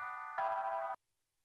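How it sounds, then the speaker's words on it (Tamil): Phone ringtone for an incoming call, a short electronic tonal chime that steps up louder partway through and then cuts off into silence. "ஒரு நிமிஷம், ஃபோன் வருது."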